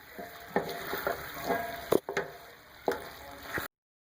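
Bottle gourd and green chillies sizzle steadily in a hot pan while a spoon stirs them, with intermittent scrapes and clinks against the pan between the frying hiss.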